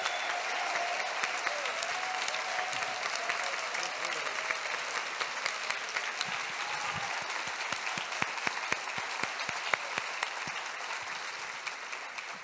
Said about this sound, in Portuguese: Eu queria, então, pedir, por favor, que todos aplaudam a equipe técnica